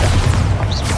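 The Bombarda spell detonates in Hogwarts Legacy on PS5 during a duel, a loud, heavy, rumbling blast filling the whole moment with dense low-end boom and crackling debris.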